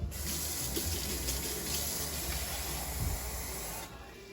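Water pours steadily from a tap with a bright, hissing rush, close up and constant, then cuts off near the end.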